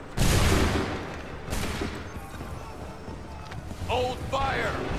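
A musket volley in Assassin's Creed III: a loud, wide blast opens the clip and rolls into a long decaying rumble, a second, weaker report follows, and shouted voices cut in near the end.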